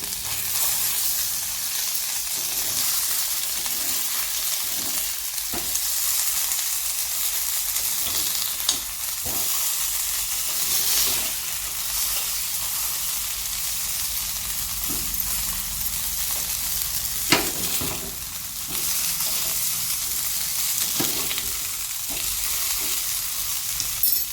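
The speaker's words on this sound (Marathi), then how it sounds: "यात आपण चमच्याने परतून घेऊया" Poha stir-fried with a spoon in a pan, a steady dense sizzle running throughout with scattered scraping clicks of the spoon against the metal, close and fairly loud, no voices.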